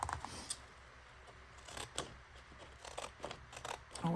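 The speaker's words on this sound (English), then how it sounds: "I'll cut around that one more time with the ripple scissors" Ripple-edged craft scissors cutting around a layered paper Christmas embellishment, a series of close, quiet crisp snips spaced irregularly in an otherwise quiet room.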